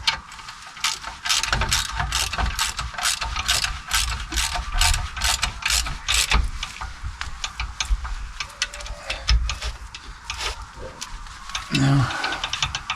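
A ratchet with a 13mm socket works the rear brake caliper bolts on an Audi, giving rapid repeated clicking bursts close up, with a spanner also in use and a voice talking at times.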